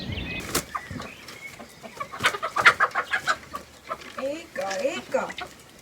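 Backyard hens clucking in a series of short, close calls, joined by brief bird chirps and a faint crow-like note, with a voice in the background.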